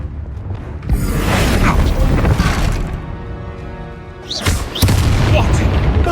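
Confringo blasting spell in the Hogwarts Legacy video game, heard as booming explosive blasts with whooshes amid a noisy combat mix, loud and close with a speaking voice over it.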